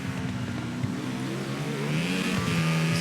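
A racing motorbike engine in TT Isle of Man: Ride on the Edge revs and accelerates hard, its pitch climbing steadily as it pulls away, loud and close with no talk over it.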